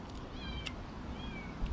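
A cat meows twice at a mountain homestead on a cold day, thin drawn-out cries carrying over a steady low rumble of background noise.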